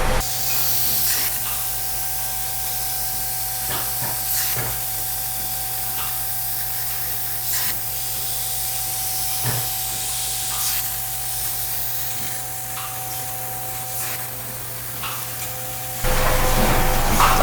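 A wine bottling machine flushes the headspace above the wine with food-grade nitrogen, giving a steady hiss over a constant mechanical hum, with faint clicks and knocks throughout and the noise growing louder near the end.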